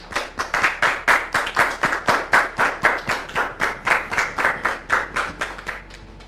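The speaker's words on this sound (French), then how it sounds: "s'il vous plaît, sous vos applaudissements" Studio audience of a French talk show claps in unison, loud rhythmic synchronized beats roughly three per second, sustained for several seconds before thinning out.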